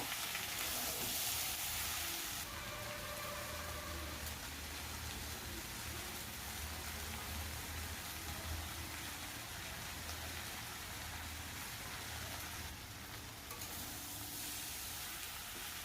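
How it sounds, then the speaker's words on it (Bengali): A steady, soft sizzle of mixed vegetables with Malabar spinach sautéing in a pan, a continuous even crackle with no talk. "পুঁই শাকটা দিয়ে সমস্ত সবজি আমি খুব ভালো করে আরও কিছুক্ষণ কষিয়ে নেব।"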